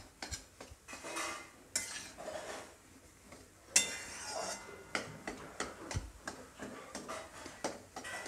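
Gram flour (besan) roasts in ghee in a pan for modak while a spoon keeps stirring it, giving repeated close metallic scrapes and clinks against the pan in an uneven but continuous rhythm, with no talking.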